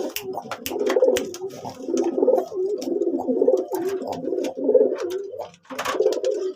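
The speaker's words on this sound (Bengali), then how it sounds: "এই যে আমার সব থেকে ফেভারিট পায়রা" Pigeons kept in a home loft coo repeatedly in close, warm, rolling bursts, several overlapping calls with brief pauses between phrases and a few sharp flutters or clicks mixed in.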